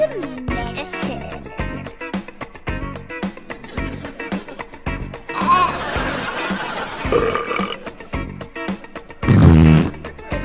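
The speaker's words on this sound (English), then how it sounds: "She's full of farts." A McDonald's doctor-themed baby toy doll lets out a string of loud, rubbery fart and burp-like noises, scattered through the clip with one long blast near the end, mixed with talking.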